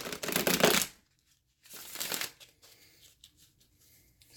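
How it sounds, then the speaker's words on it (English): Tarot cards riffle and shuffle in two close, crisp bursts, the first longer and louder, followed by soft handling rustles; no one talks. "give me 1 second to just shuffle these cards."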